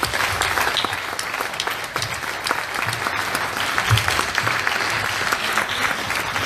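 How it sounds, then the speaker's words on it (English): An audience claps for a panel at an Indy X event in Dunfermline, a dense sustained round of applause from a room of people, loud and even throughout with no speech over it. "So a big round of applause to the panel."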